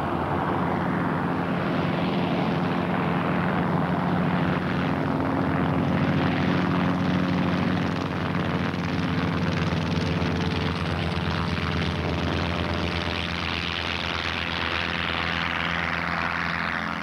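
The Voyager around-the-world aircraft flies with newly fitted metal propellers, giving a loud, continuous propeller engine drone that holds steady and close throughout.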